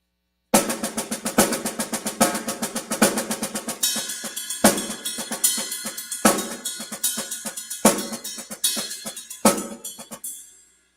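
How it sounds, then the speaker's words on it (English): A drum kit plays a fast, busy double paradiddle sticking pattern across drums and cymbals, with crashes every couple of seconds and a cymbal ringing out at the end. "And it sounds like this, double paradiddle."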